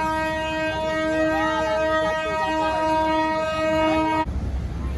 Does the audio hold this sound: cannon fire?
no